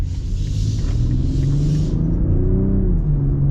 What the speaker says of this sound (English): Listen to that inline six.